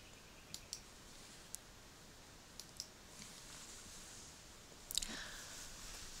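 Sharp mouse clicks while navigating the Canvas course site to its Syllabus link, several small isolated clicks spread across a quiet room, then a slightly louder cluster of clicks near the end.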